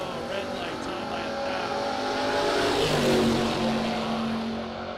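Drag racing cars, including a Chevy II, run at a SuperBucks Showdown drag strip with a steady, droning engine roar that swells toward the middle and eases off, and an announcer's voice runs over it.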